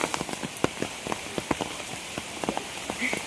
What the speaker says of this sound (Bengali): বৃষ্টি হচ্ছে, ওয়েদার ঠান্ডা